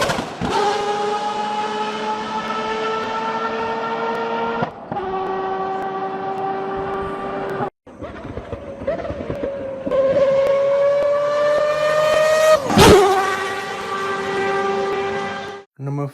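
A Mazda 787B four-rotor race car with straight cut gears screams at high revs, a loud shrill wail that climbs through gear changes with brief drops between them and a sharp peak near the end.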